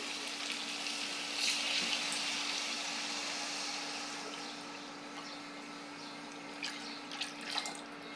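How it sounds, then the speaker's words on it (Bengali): Water poured into a cooking pot for a village-style okra (bhindi) dish: a steady splashing hiss with a few brief drips and clinks near the end, at moderate, fairly constant level. "আমি একটু পানিটা দিয়ে দেবো ভেন্ডির জন্য"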